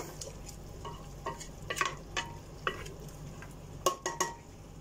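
Beef asado mix with brown sugar is stirred in a frying pan, a soft continuous sizzle broken by several quick scraping clinks of a spoon against metal, close and quiet, without speech.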